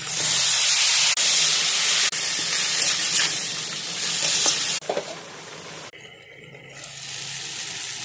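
Cabbage frying in a pan with bay leaves, cumin and chopped onion, a loud continuous sizzle interrupted by stirring clatters, then quieter hissing near the end.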